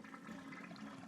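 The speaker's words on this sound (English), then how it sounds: "I go inside, flush the toilet." A toilet flush in a video game, a short, faint rushing of water heard on its own.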